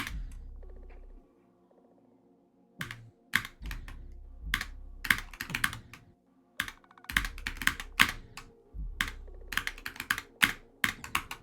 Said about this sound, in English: My keyboard made the wrong sounds even.